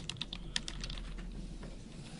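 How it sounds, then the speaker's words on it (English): Quick, light keystrokes on a computer keyboard, a brief burst of clicking at the start that then fades into soft background hum. "Of course, you're typing that in."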